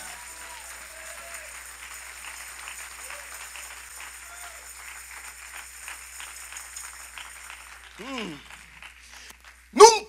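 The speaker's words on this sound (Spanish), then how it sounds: "¿Alguien puede aplaudir fuerte al Señor?" A church congregation applauding loudly after a sermon, a steady wash of many hands clapping through most of the stretch, with scattered voices and a few short shouted exclamations rising near the end.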